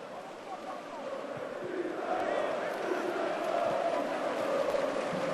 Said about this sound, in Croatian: Dinamo Zagreb ori se sada Salzburškom arenom.